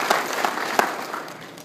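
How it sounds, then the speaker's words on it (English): An audience at a job fair opening ceremony gives a round of applause, a broad wash of many hands clapping with a few louder individual claps standing out, steady and moderately distant. "So I'd like to give her a round of applause as well."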